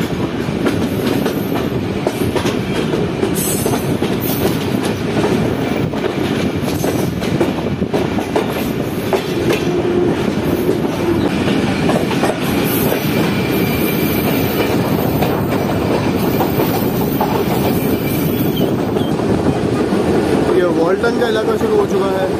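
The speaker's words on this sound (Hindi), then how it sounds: "तो सिर्फ 2 मिनट रुकने के बाद ट्रेन डिपार्ट कर रही है" The Pak Business Express rumbles loudly and continuously on its Karachi to Lahore run, wheels clattering over the rails with occasional squeals, heard from inside an economy carriage while people talk.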